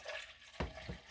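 Water poured into a coffee pot on an old drip brewer, a soft trickling splash with a couple of brief gushes, close and quiet.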